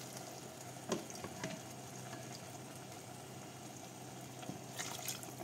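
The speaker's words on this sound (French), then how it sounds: "Et on n'arrête pas de remuer, en fait, pour vraiment pas que ça colle." A cooking mixture in a pot over high heat, with a low continuous sizzle and bubbling and a few faint scraping stirs scattered throughout, quiet and fairly distant.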